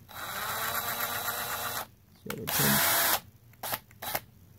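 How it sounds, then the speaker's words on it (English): A power drill whirs steadily for a couple of seconds, then stops, followed by short bursts of spinning and clicks as a bit is fitted into the chuck, with a voice nearby. "you need to be able to put this end right here in your drill"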